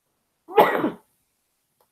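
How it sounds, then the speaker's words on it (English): A single short, harsh cough bursts out around the half-second mark, then near silence follows with only a faint sound at the very end. "I think the more I talk, the more I cough"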